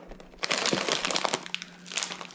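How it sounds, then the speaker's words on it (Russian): A plastic bag of candies crinkled up close, with busy irregular rustling and crackling bursts throughout, no talking. "Вот такой пакетик конфеток."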